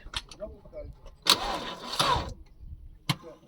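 A car's starter cranks the engine on a dead battery, using a VOIN LV 150 jump starter, in a loud, grinding burst lasting about a second, with people talking nearby before and around it.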